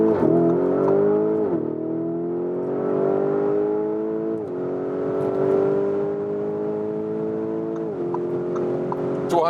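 Lamborghini Urus Pearl Capsule Edition accelerating hard on a German Autobahn from 40 km/h, its engine note climbing steadily through gears with brief dips at each shift, loud and continuous from inside the car.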